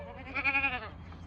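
Goats bleating near a farm gate, a single wavering, nasal bleat rising to a loud middle and trailing off, with faint outdoor background around it.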